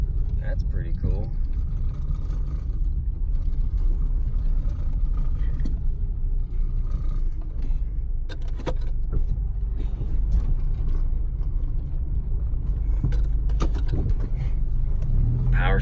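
A Plymouth Sundance car rolling over rutted gravel, heard from inside as a loud, continuous low rumble with scattered knocks and rattles from the bumps, and a voice talking over it.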